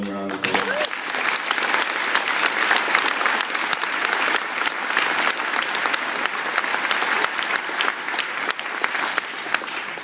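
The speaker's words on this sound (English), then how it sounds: "Could we give them a round of applause?" Students and staff in a school gym at a memorial assembly break into steady, loud applause that fills the room for the whole stretch after a brief moment of speech at the start.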